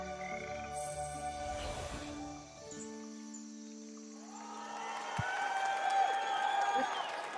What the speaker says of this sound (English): they're all cheering